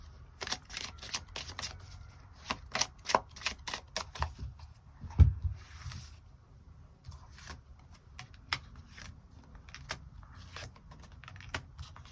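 Tarot cards are shuffled and drawn in a quiet room: quick irregular riffling flicks and soft taps, close and fairly faint, with no talking.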